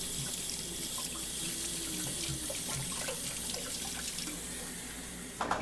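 Fresh garden beets are washed by hand under a kitchen tap, the water running in a steady close stream with small splashes and clinks as the roots are handled, ending in a brief louder clatter.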